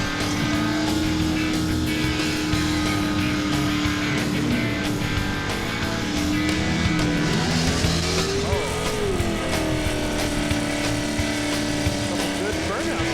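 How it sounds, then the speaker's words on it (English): A drag racing car doing a burnout on the back tires, a loud continuous engine roar with rising and falling revs and tire noise, heard under a commentator talking over it. "Good burnout there."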